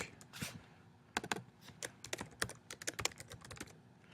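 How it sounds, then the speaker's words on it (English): Typing on a computer keyboard: a close, quiet run of irregular key clicks in short bursts with brief pauses, heard alone without talk. "Let's type another thing over here. So we're going to type good morning."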